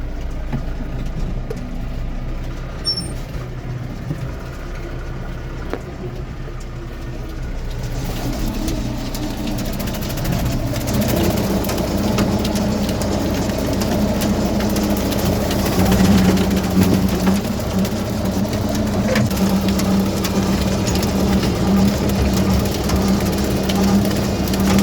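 A tractor tops long grass and weeds such as thistles, docks and nettles in a field on an Irish dairy farm, giving a steady low engine drone and mowing rumble that grows slightly louder partway through and continues without a break.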